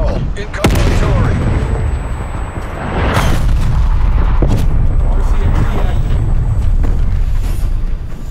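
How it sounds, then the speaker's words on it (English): Incoming artillery fire in the Call of Duty Cold War video game: a loud, dense barrage of deep booms and blasts that sits under a steady rumble, with several sharp impacts standing out. "Incoming artillery."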